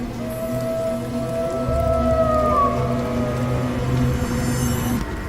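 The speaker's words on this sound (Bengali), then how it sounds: "দূরে শোনা গেল শিয়ালের ডাক।" A jackal howls in the distance on a rainy night, with long, wavering, gliding calls rising over the steady patter of light rain.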